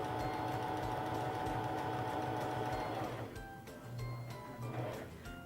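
A SINGER Fashion Mate 3342 sewing machine runs steadily while sewing a seam, its fast, even motor hum and needle chatter continuous for about three seconds before it slows and then starts up again in shorter bursts.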